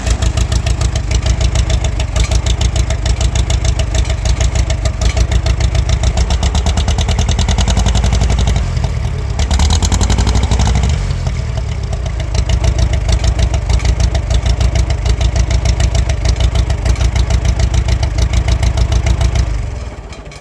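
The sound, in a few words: old tractor engine running, sounding like a John Deere A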